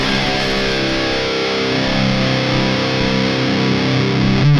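An electric guitar plays through an amp driven by a Walrus Audio Eras distortion pedal set as a boost, giving a thick, loud, sustained distorted tone that rings out steadily, close and alone.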